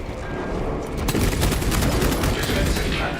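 Defensive cannons fire in the video game Moss, a dense, continuous barrage of booming shots rolling one into the next at steady loudness, with a voice speaking over the gunfire.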